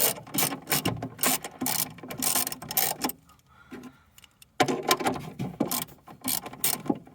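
A ratchet wrench clicks in rapid bursts while undoing bolts in the rear recess of a 1994 Jaguar XJS V12 facelift, with a short pause midway before the ratcheting resumes close and loud.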